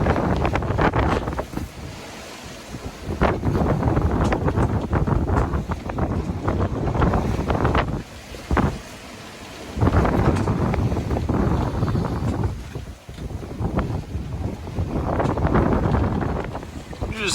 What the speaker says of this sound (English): we just broached hard, drug the boom through the water.